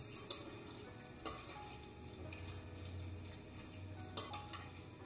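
Chickpea tuna salad being mixed in a bowl, with quiet clinks and scrapes of a utensil against the dish and a few sharper knocks, faint and close, with no talk.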